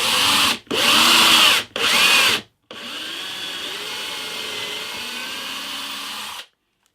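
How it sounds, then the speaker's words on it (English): A power drill bores a pilot hole into a guitar neck on a hollow body guitar, several loud close bursts of high whine with brief pauses, then a longer, quieter steady run before stopping. "drill a pilot hole into the neck."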